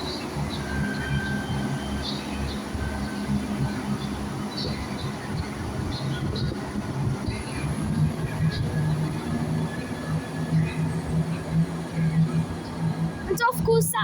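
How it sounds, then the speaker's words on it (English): A ScotRail Class 170 diesel unit pulls away from the platform at Dundee station, giving a steady low engine rumble with broadband rail noise that holds throughout. Faint voices murmur in the background. "And off goes that train"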